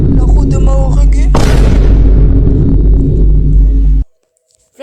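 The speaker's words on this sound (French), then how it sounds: "Flashbang." A flashbang grenade detonates in a video game with a sudden loud broadband burst, followed by a sustained ringing hiss that fades out over about three seconds before cutting abruptly to near silence.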